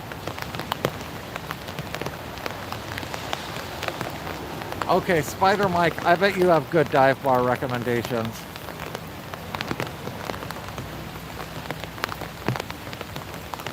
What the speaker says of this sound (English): It's raining pretty good here.